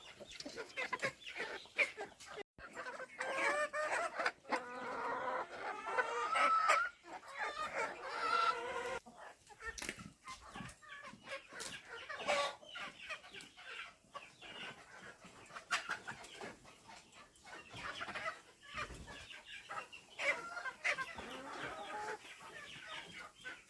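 Chickens clucking at a house in an abandoned mountain village, watched over by a big sheepdog. Repeated nearby clucks and squawks go on throughout, mixed with scratchy rustling and handling noise.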